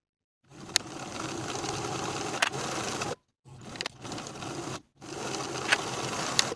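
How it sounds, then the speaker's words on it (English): A sewing machine stitching cardigan shoulder seams with a 5/8 inch allowance runs in three bursts of steady motor whirr and needle chatter, separated by short silent pauses, with occasional sharp clicks at the starts. "Pin and sew with a 5/8 inch seam allowance."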